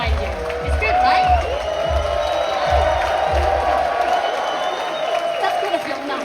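A crowd cheers and claps at a Gran Turismo manufacturer cup race event in Los Angeles, a steady roar of applause and whoops under ongoing talk.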